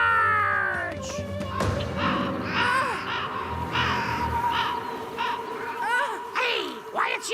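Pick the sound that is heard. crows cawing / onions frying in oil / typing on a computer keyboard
crows cawing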